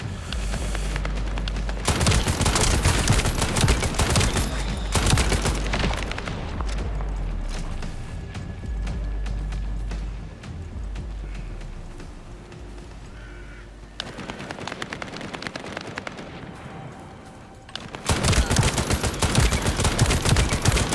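Gunfire in the video game The First Descendant: dense, loud bursts of rapid automatic shooting and explosive booms, broken by short quieter stretches of lingering combat noise before the heavy firing resumes.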